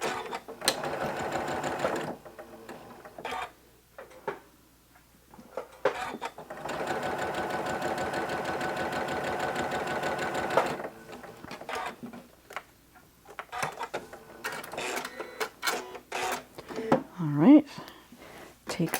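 Sewing machine stitching jelly roll quilt strips together, a rapid mechanical whir in bursts of a few seconds separated by pauses, close by, with a person talking between and over the runs.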